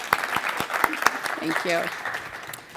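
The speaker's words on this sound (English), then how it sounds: "Let's have a round of applause for Jill." An awards-ceremony audience claps for the host with scattered, fairly close claps, while a person speaks briefly over the applause.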